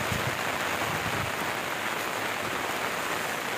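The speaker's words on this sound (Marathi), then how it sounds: "जोरदार पाऊस, थंड तर इतक्या लागताना विचारूच नको" Heavy, cold monsoon rain pours down in a dense, unbroken roar of water on surfaces, loud and close throughout, with a few low thuds near the start and no voices.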